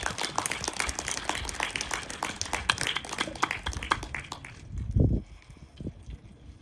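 An audience at a Korean National Foundation Day forum claps to welcome a guest speaker, dense, even applause lasting several seconds before fading into a quieter room with a few scattered sounds.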